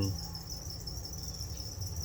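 Crickets chirping inside a plastic rearing bucket, a continuous high, thin trill held steadily over a low background hum, faint and close.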